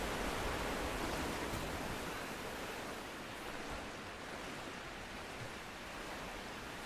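Rising floodwater rushes in the Tomb Raider game, a dense, even roar of churning water that fills the space, starting slightly louder and then holding steady.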